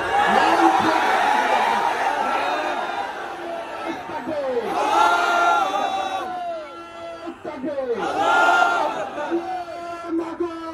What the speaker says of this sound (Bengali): দাঁড়িয়ে নারায়ে তাকবীরের ধ্বনি দিতে হবে